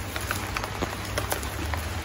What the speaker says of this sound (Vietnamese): Mưa lạnh quá